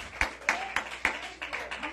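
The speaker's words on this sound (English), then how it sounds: "Let's give the Lord a hand clap and praise" A church congregation claps hands in a loose steady rhythm during praise, sharp claps about four per second with voices murmuring faintly beneath.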